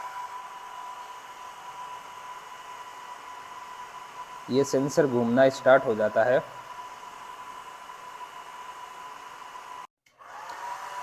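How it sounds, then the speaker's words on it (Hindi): A hair dryer runs continuously, blowing air at a wind speed sensor on an Arduino weather station. It makes a steady whooshing hum throughout, with someone talking over it partway through. "जैसे ही हम हेयर ड्रायर ऑन करते हैं,"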